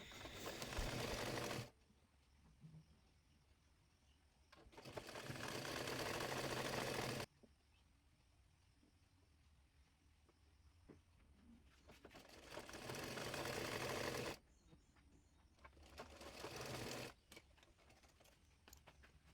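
A sewing machine stitches lace onto a hijab in four loud whirring runs of a few seconds each, separated by quieter pauses.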